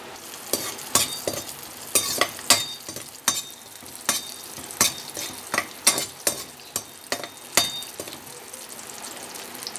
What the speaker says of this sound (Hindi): हमने थोड़ा सा ऑयल लिया है, उसमें हम प्याज डाल देंगे। इसको हल्का सा हम नरम कर देंगे।